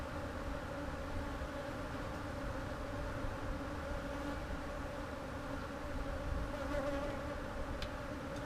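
Honeybees drone continuously around a hive box during re-queening, a dense, steady buzzing swarm that stays loud and close throughout with no speech.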